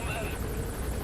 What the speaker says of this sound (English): this helicopter's overhead, pilot's quite blind, but we're in his blind spot anyway